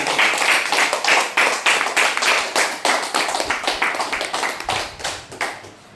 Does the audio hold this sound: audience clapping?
yes